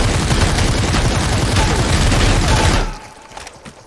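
A seven-star MP5 fires in rapid automatic bursts in the video game Super People, loud and dense, packed with impacts and booms, then cuts off sharply into a near-silent tail.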